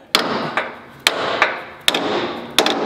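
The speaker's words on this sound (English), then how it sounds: "you're gonna take your install tool, you're gonna put it in there, and you're just gonna give it some good solid taps" Sharp metal taps from an install tool driving a bushing into a Ford Bronco, four to five solid, evenly spaced strikes close by, each ringing briefly, with no talk.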